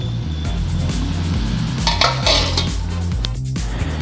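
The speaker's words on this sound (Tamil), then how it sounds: "நாம் இப்போ 30 மினிட்ஸ் இதை ஒரு மூடி போட்டு க்ளோஸ் பண்ணி வைக்கலாம்" A metal lid goes onto a pot of lentils cooking for South Indian sambar, giving a few clinks and scrapes over a steady low bubbling hum.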